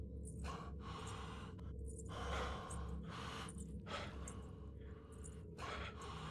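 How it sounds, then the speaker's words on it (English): A video game character panting and gasping heavily while being chased, in repeated ragged breaths over a steady low background rumble, with no talking. "My character in the game is breathing like me."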